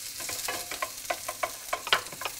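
Diced speck and scallions fry in a pan, giving a soft steady sizzle broken by repeated scraping strokes of stirring, close and fairly quiet, with no talking.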